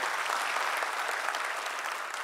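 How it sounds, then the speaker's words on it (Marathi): An audience at a youth entrepreneurship gathering in Thane claps loudly, a dense, steady wash of applause that fills the whole moment without a break. "सर्वांनी एकदा जोरात टाळ्या वाजवायच्यात."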